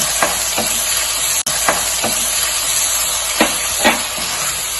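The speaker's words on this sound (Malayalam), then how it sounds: "നമ്മൾ ബീഫൊക്കെ നന്നായിട്ടൊന്ന് വഴറ്റി കൊടുക്കുന്നുണ്ട്" Beef sautéed with thick yogurt in a hot pan for Afghani beef pulao sizzles loudly and steadily, with repeated scraping strokes of a spoon stirring close by and no speech.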